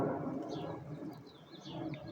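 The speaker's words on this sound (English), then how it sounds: "Yeah, you, pretty bird." Bird calling softly in a quiet indoor setting, a few thin chirps and coos rising above a low background murmur, close by and faint.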